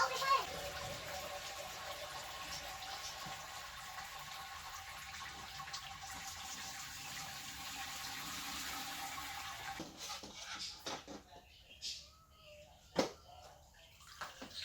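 Sparge water pours steadily into a Robobrew all-grain brewing system during a pale ale brew, a continuous rushing fill that stops partway through, followed by scattered clinks and handling noises.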